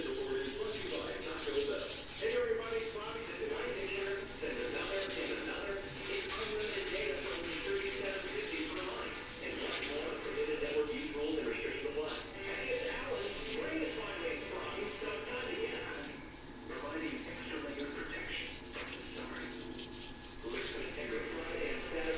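Wet sanding of a rusty cast iron top, a long continuous rhythmic rubbing and scraping, close and fairly loud, with strokes going back and forth throughout.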